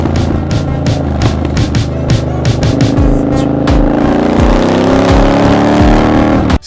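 A Triumph Bonneville Bobber motorcycle at top speed, with loud, steady engine drone and heavy wind rush, punctuated by repeated sharp clicks and bumps throughout.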